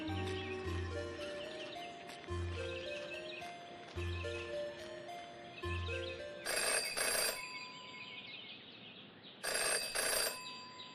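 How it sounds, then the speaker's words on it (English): A telephone rings in the detective adventure game Jenny LeClue, with two bright bursts of ringing over looping background music. The ringing is loud and clear against the melodic score. "Jenny had learned never to ignore a ringing phone"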